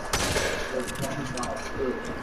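Gunfire in a solo-versus-squad video game, dense rapid shots and bursts crackling continuously under music and a talking voice.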